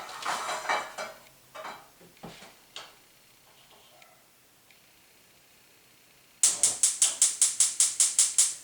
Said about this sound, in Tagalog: So I will have a frying pan here.